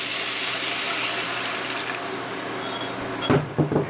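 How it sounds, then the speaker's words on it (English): Two cups of water poured into a pot of brisket enchilada sauce seasoned with bouillon, a close, steady rush that thins out and ends in a few brief splashes. "we're going to add 2 cups of water"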